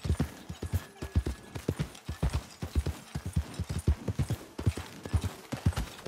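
Horse hooves clip-clop at a brisk, steady gait while riding in the Red Dead Redemption 2 video game, with rhythmic clear thuds running throughout and occasional faint mechanical jingle.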